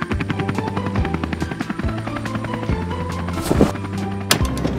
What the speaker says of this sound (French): dans le ciel, il y a un hélicoptère avec un gros chargement